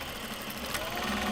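A sewing machine drives a quick burst of stitches through a seam tag on a small box bag, a short, steady, close mechanical whir.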